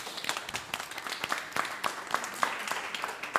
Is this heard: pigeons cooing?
no